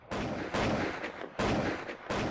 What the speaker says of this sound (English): The soldiers opened fire